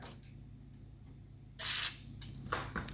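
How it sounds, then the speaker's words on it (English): A short hiss of lubricant spray bursts into a kitchen cabinet hinge, followed by a couple of softer sprays and faint clicks in a quiet room. "I'm going to spray right down in there."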